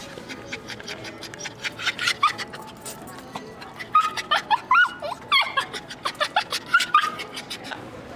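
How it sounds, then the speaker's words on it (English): A dog barks in a run of sharp yips and whimpers, some close and loud, with panting between the calls and no speech over it. "This one's my aunt's dog."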